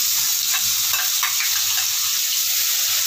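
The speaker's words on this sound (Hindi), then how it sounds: "इसमें हम सबसे पहले ऐड करेंगे हमारे प्याज।" Chopped onions frying in two spoons of hot oil for pav bhaji poha, giving a steady, close sizzle with light scraping stirs throughout and no talking.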